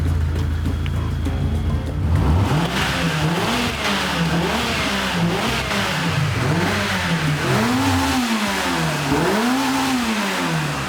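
A Suzuki Swift 1300 GTi TwinCam engine revs repeatedly in a workshop, each throttle blip rising and falling in a rhythmic series of loud, close revs.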